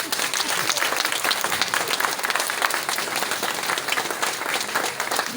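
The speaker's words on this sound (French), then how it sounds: "On peut applaudir 30 secondes pour lui." Sustained audience applause at a one-man comedy show honoring a late Chadian actor, dense steady clapping from a large crowd filling the room, close and continuous without a break.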